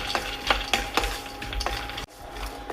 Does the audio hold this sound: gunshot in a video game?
no